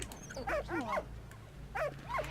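A dog in the World War I video game Valiant Hearts: The Great War gives several short whimpering barks and yips in two quick bursts over a steady low background hum.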